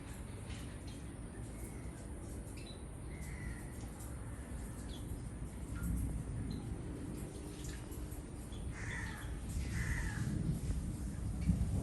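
Crows gather to bathe in water in the late afternoon, cawing in a few short, rough calls at moderate distance, with splashing and dripping water under a steady outdoor background.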